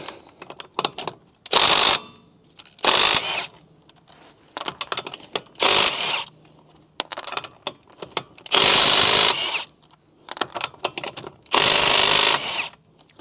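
A Milwaukee cordless impact gun fires in several loud broadband bursts of one to two seconds on the wheel bolts of a crash-damaged Audi S1 Quattro, with clicks and workshop rattles in between and no talking.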